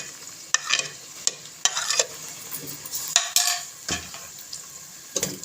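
Tomato frying together with ginger and green chili paste in a pan, a steady sizzle broken by several sharp scrapes and clinks of a spoon stirring against the metal, close by with no talk.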